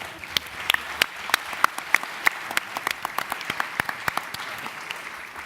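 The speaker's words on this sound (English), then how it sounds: "I think it's time for applause for our great panel." A conference audience claps for a panel discussion on Arctic investment, a steady spread of many hands with sharp individual claps standing out, moderately loud and continuous throughout.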